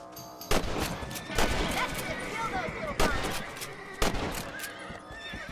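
Rifle shots fired at rabbits in the Red Dead Redemption video game: four sharp cracks spaced about a second apart, heard over a busy outdoor game soundscape with a horse whinnying and background voices.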